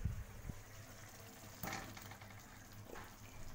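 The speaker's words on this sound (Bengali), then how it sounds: "এবার এই আলু সেদ্ধগুলো কিন্তু আমি ভাজিনি, এই মশলার সাথে এটাকে কষাবো।" Unfried boiled potatoes are sautéed in spice masala in a pan for an egg curry. A very quiet, low sizzle runs under a few soft scraping knocks from stirring.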